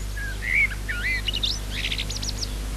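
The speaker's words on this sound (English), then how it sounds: "Many birds do this. It's called territorial song." Outdoors, a bird sings a territorial song: a string of clear whistled phrases that sweep up and down, ending in rapid trilled notes, heard over a low steady hum.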